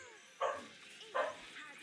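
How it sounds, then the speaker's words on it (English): Two sharp barks from excited dogs about a second apart, fairly loud over a steady background hum, with faint talk underneath. "Dogs were excited."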